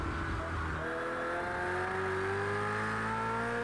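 A GT3 race car engine in the Project CARS 2 racing game drops a gear, its droning pitch stepping down and then climbing steadily again under acceleration, loud and close.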